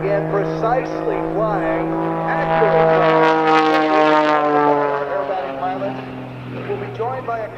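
An aerobatic airplane performs at an air show, its engine droning with a pitch that rises and falls as it pulls a loop, heard under continuous announcer commentary.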